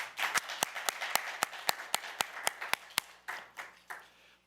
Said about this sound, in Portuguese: A salva de palmas para ele, gente.